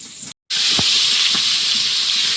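Eggplant frying in hot oil, a loud, dense, continuous sizzling hiss that cuts out for an instant and then returns at full strength.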